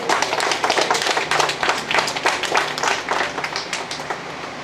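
A church congregation applauds steadily during a Spanish-language sermon, a dense, continuous patter of many hands clapping at close range with no one speaking over it.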